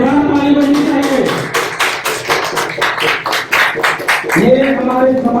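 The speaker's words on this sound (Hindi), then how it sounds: "जोरदार ताली बजनी चाहिए" A crowd at a community gathering honouring Maharani Durgavati claps in a rhythmic beat, loud and close, while a voice carries on over the start and finish of the clapping.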